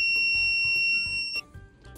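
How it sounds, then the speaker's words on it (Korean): A Zircon multi-scanner beeps near metal: a loud, steady electronic tone holds for over a second, then drops to a lower, quieter pitch alongside faint handling clicks. "스터드와 다르게 삐소리가 계속 나오고 있어요. 금속이 가까이 가면 아주 멀리서부터 알려주죠."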